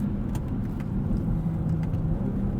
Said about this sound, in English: I'm going to shift down manually